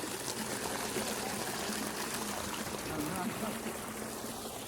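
Water gushing from a motor pump pipe out in farm fields, a steady loud broadband rush running throughout, with people talking over it.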